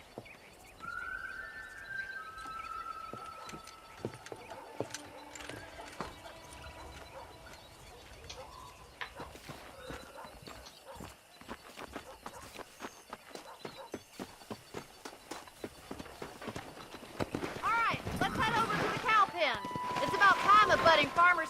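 Horse hooves clop at a steady walking rhythm while a rider herds cattle in Red Dead Redemption, with voices talking over them and other game sounds growing louder toward the end.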